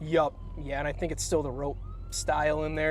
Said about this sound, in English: if you couldn't hear in the background, we heard sirens